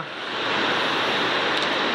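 Pacific Ocean surf at a Los Cabos resort in Mexico, heard from a seventh-floor room, rises into a steady broad wash of breaking waves that fills the whole stretch.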